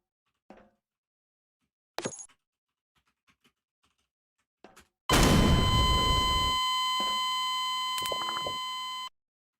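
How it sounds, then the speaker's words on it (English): Garry's Mod heart monitor flatline tone: after a few scattered soft clicks and beeps, a loud, sustained electronic tone begins and holds steady for about four seconds before cutting off. "It plays like the flatlining sound, but it doesn't play the scream."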